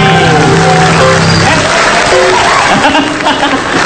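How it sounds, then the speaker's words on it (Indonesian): Applause and cheering from a studio audience at an Indonesian comedy show, a loud dense crowd noise with scattered laughter throughout. "Tepuk tangan dong sekali lagi"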